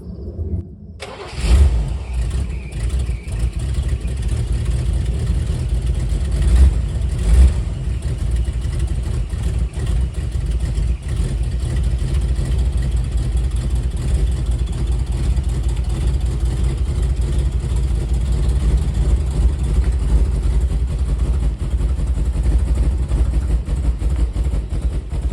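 A 1977 GMC Eleganza motorhome engine runs steadily while the vehicle drives, a loud continuous low rumble that starts after a brief moment and holds for the rest of the clip with no talking.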